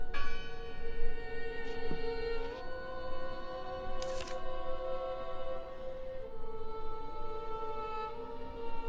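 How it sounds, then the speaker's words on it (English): Church bell ringing inside the video game Draugen, sustained tolling tones layered over a steady ambient drone, moderately loud and continuous with no talk. "Listen! The bell! They're still in there!"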